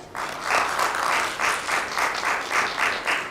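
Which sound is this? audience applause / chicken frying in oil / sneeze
audience applause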